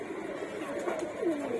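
Breeder pigeons in a loft coo softly and continuously in the evening, a low murmuring warble that rises and falls, close by.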